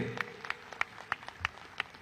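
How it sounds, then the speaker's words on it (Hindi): Crowd clapping at a 2025 Delhi election rally, a steady rhythmic beat of about seven sharp claps in two seconds, moderately close. "जोर से ताली बजाओ बहन जी के लिए"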